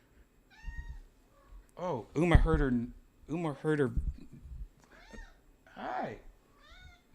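A pet cat named Uma meows repeatedly in several drawn-out calls, close by, interleaved with a person talking to her.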